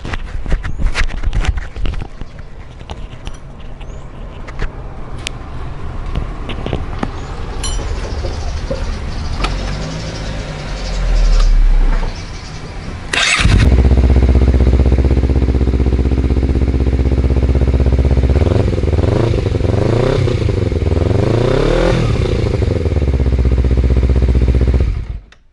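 A Honda CBR250RR motorcycle fitted with a Prospeed Shark exhaust and its dB killer, recorded close to the exhaust outlet. The engine starts and idles loudly, then revs up and down several times in a steady throaty drone with no talk.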